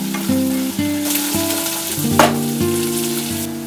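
Chopped onions and green chillies sizzle and fry steadily in a hot pan with oil, a close, continuous crackle with some stirring and no talking.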